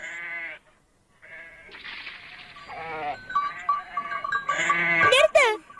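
Cartoon goat kids bleat in a quick run of wavering cries, first alone and then amid lively chatter and a shrill burst of voices near the end.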